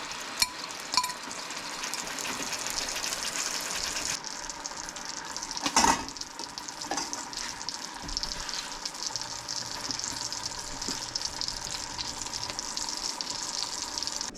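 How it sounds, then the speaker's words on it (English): Salmon fillets cook in a pan of honey garlic sauce, giving a steady, close sizzle and bubbling throughout, with a couple of light utensil clinks and no talking. "cook that for about 3 to 4 minutes, then basting the salmon fillets as you're cooking it"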